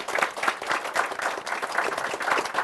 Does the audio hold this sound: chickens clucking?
no